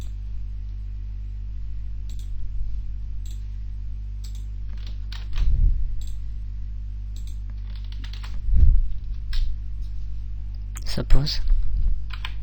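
Computer keyboard keys clack in sparse bursts while a Python function is written, close and fairly soft over a low steady hum, with occasional short flurries of typing.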